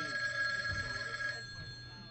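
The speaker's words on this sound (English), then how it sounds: "When you hear the phone ring" A telephone rings with a steady electronic bell tone during a hypnotist's stage show, fairly loud for about a second and a half before fading, with a low crowd murmur underneath.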